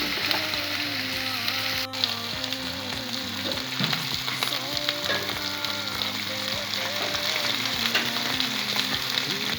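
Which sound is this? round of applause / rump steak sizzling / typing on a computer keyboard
rump steak sizzling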